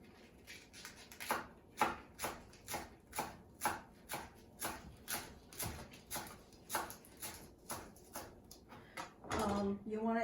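Knife shredding cabbage into small slices on a cutting board for egg rolls, a steady rhythm of about twenty close, crisp chopping strokes, with a brief rustle of the shreds near the end.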